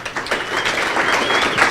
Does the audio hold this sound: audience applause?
yes